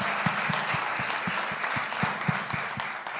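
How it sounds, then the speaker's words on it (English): An audience at a global business summit claps together in a steady, rhythmic beat, loud and continuous, with a few louder claps standing out. "We all should join our hands and clap for this man."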